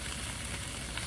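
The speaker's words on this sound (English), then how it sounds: "they're just in the skillet with olive oil that was heated up, that's all" Chicken pieces fry in heated olive oil in a skillet, giving a dense, even sizzle that stays close and steady throughout without any talk.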